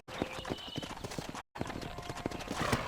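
Horses from a herd in Red Dead Redemption, clip-clopping hooves in an irregular rhythm, close and moderately loud, with a short silent gap midway.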